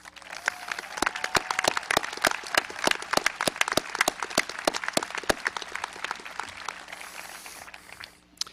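Graduation ceremony audience claps for a sports team standing in the hall, with sharp individual claps standing out over a moderate steady applause that thins and stops near the end.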